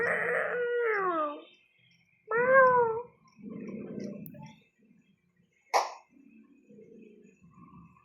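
A cat gives two long, loud, wavering meows close by, then lower growling cries and a sharp sound, with quiet gaps between calls.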